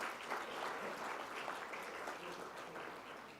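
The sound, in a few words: audience applause at a gala dinner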